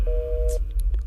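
A telephone tone sounds on the line right after a call is hung up: one steady, clear beep lasting about half a second, followed by faint clicks and line noise.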